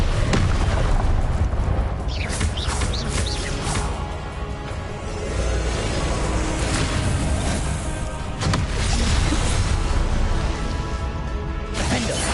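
Confringo blasting spells going off in Hogwarts Legacy, a fantasy wizarding video game: loud, dense booming bursts and whooshes pile over a constant roar, with sharp blasts around the start, middle and near the end.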